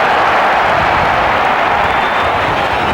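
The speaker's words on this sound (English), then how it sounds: "The crowd begins to roar, but it's still not clear." A football stadium crowd at an Argentina versus Bulgaria match roars loudly and continuously, a dense unbroken wash of noise with no clear breaks.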